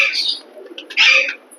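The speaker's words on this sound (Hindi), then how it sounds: "ये भाइयों कबूतर खोल दिए हैं" Pigeons released from a loft near a net give bright coos and flutter-like chirps in two short bursts, close and fairly loud, with a quieter gap between.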